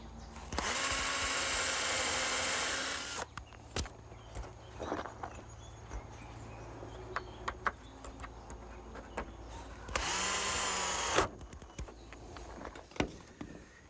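Power drill driving screws into a greenhouse roof ridge cap, one screw each side of every rafter: two long, loud whirring bursts with sharp knocks and clatter between them, no talk.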